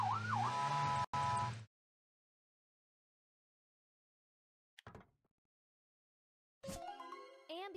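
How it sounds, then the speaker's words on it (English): Police car siren from a kids' vehicle cartoon: a short wavering wail over engine rumble lasting about a second and a half, then silence broken by a click and a bright chiming jingle. "police car."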